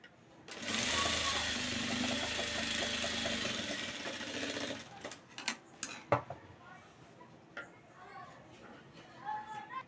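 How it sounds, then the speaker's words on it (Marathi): A sewing machine stitches a canvas-backed Paithani saree blouse border, running in a close, steady whirring burst for about four seconds, then stopping; clicks, fabric handling and some speech follow. "मी पूर्ण अशी शिलाई करून घेतली"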